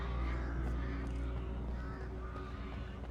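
Crows cawing in Alan Wake Remastered, a few harsh calls over a low, heavy game ambience, fairly close and loud.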